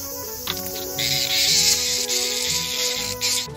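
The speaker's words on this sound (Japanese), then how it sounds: "またクマゼミのオスですね。 めちゃくちゃうるさい。" A male bear cicada calls loudly and close by, a harsh, continuous high-pitched buzz that surges in after a brief quieter start and keeps droning.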